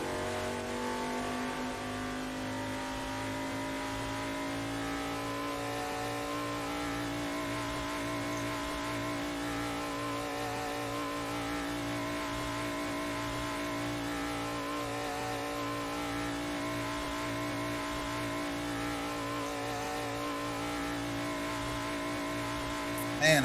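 A car engine holds a steady high drone while speeding over a bridge on the Shutoko Expressway in a driving video game, loud and continuous with no talk.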